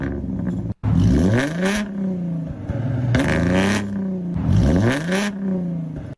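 A V6 Ford Mustang engine revs repeatedly, its raspy exhaust note from a center-exit exhaust climbing and falling in several loud bursts, with a brief cut early on.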